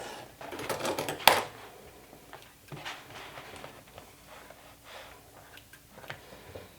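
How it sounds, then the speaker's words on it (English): A sewing machine back stitching a crossbody bag: one sharp mechanical clack near the start, then a run of light, close ticking and whirring bursts. "I'll stitch it with a couple of back stitching, so it stays good and well in place."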